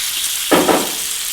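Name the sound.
bacon frying in olive oil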